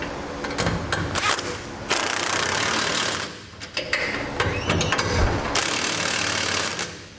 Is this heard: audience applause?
no